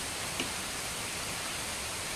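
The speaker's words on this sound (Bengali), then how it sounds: "এরকম বৃষ্টি হচ্ছে, কেমন ঝমঝম করে বৃষ্টি হচ্ছে" Heavy rain pours down in a dense, steady hiss that fills the whole moment without a break.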